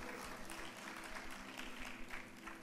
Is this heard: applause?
yes